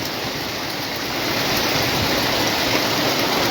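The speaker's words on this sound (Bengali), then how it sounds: "সকালবেলা এত বৃষ্টি" Heavy morning rain in Comilla, Bangladesh, a thick, rushing wash of water with a deeper rumbling edge, steady and slightly louder in the second half, with no one speaking.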